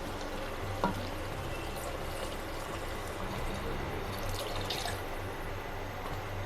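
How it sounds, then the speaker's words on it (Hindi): Water is poured into browned mutton and spices frying in ghee for shorba, a faint, continuous splashing and sizzling wash with soft drips, steady and low throughout. "अब हम इसके अंदर पानी डालते हैं।"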